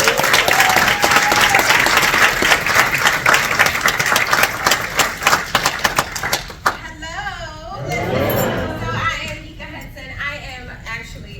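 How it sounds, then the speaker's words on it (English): A live event audience gives a big round of applause, loud dense clapping with cheers that fades out after several seconds into scattered voices and chatter. "So I want you to give a big round of applause for Nika Hudson."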